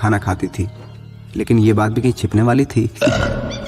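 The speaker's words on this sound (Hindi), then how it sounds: "हमको बहुत जोर से डकार आवत है" A loud, drawn-out burp from a man in a Hindi comedy drama scene, coming between spoken lines, with talk before and after it.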